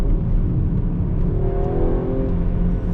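An Audi A5 Sportback engine pulls hard under acceleration, a steady, throaty roar with rising tone heard from inside the cabin, continuous and loud throughout, with no talking.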